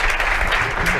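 An audience at a Spanish-language forum on the metaverse gives steady, dense applause, many hands clapping together without a break over a second, loud and close.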